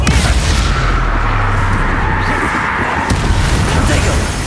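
A loud, sustained blast from the Confringo explosion spell in Hogwarts Legacy, booming and roaring close up, with voices around it.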